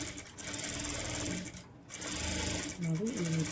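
Electric sewing machine stitching a blouse sleeve, a continuous close mechanical whirr with a brief pause, while someone talks over it.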